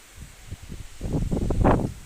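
Leaves rustle in gusting wind, starting soft and building to a louder, fuller swell of rustling toward the end.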